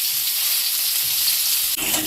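Parboiled potatoes frying in oil, a close, steady sizzle with faint stirring, ending in a short scrape.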